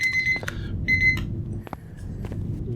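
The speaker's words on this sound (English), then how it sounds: "you can hear our timer go off there" A timer alarm goes off in Empyrion Galactic Survival, two bursts of shrill electronic beeping followed by a few sharp clicks over a low game hum, near and clear with no talk.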